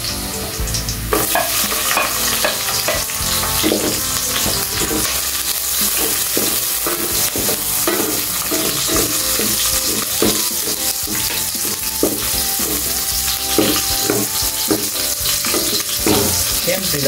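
Onion sautéing in hot oil for Filipino ginisang munggo with ampalaya, a loud continuous sizzle with repeated scraping stir strokes across the pan, no talking.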